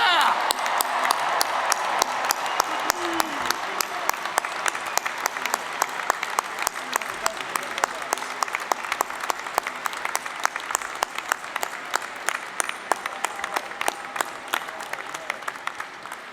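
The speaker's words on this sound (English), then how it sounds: "Let's have one last round of applause for all of our graduates and their families." At Tulane University's 2019 commencement, a large crowd gives one last long round of applause for the graduates and their families, with sustained clapping punctuated by sharp individual claps and some voices mixed in.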